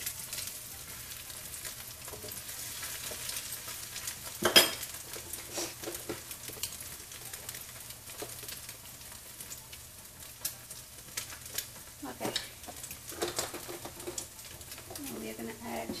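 Shrimp, scallops and lobster sizzling on a hibachi grill with soy sauce, giving a steady close hiss with scattered clicks and spatters. Faint talk and occasional bird calls sit in the background.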